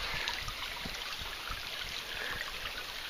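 Creek water flows and trickles softly outdoors, a faint continuous babble with small splashes and no voices.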